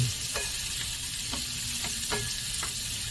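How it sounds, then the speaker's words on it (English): Onions sizzle in a hot pan with salt and pepper, steady frying hiss broken by several scraping strokes of a utensil stirring them. "onions are starting to cook a bit here."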